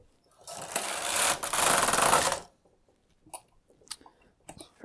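A knitting machine's carriage is pushed across a hat in progress, giving a loud, continuous mechanical rasp of about two seconds, followed by softer clicks and handling noises.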